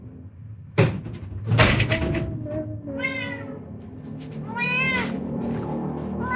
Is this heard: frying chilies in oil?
no